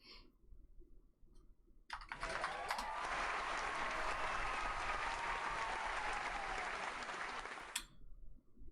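A stadium crowd in an American football video game roars for about six seconds, a dense, loud wash of cheering that starts and cuts off abruptly, with quiet background before and after.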